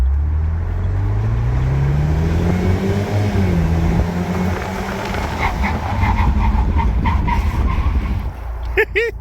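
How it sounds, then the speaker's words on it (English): A 2008 Saturn Sky Redline convertible pulls hard from a standstill to about 40 mph, engine note rising loud and close with wind rush, then brakes back down with tyre and road noise toward the end. "Let's do a quick 0 to 40 to 0 to show you nothing hiding in the suspension or the braking systems at full load."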